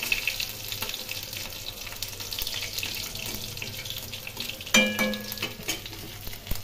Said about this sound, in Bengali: তেলের মধ্যে পাঁচফোড়ন দিয়ে দিলাম। পাঁচফোড়ন একটু ভেজে নেব।